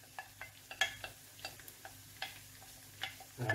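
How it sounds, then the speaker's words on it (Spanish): Julienned onion with garlic frying in a pan, with a soft sizzle under a string of light spoon clicks and scrapes from steady stirring, close and fairly quiet, with no talking. "vamos a echar la cebolla, cortaditas julianas."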